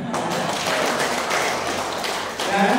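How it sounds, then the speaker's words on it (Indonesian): Congregation at an Easter and community renewal gathering in Pontianak, West Kalimantan, applauds: a continuous patter of many hands clapping, fairly close and steady, with a slight swell near the end. "Kita beri tepuk tangan"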